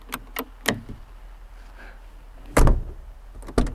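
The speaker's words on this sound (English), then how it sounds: "Always test your strikers before you close the door." An Audi 90 Quattro Sport's door shuts at a junkyard: a few light latch taps and clicks, then a solid, close thud followed by a second, smaller knock a second later.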